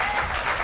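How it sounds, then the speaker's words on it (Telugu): Church congregation clapping in praise of God during a Telugu sermon, a short, steady wash of applause filling the space at moderate level. "చప్పట్లు కొట్టి దేవుని"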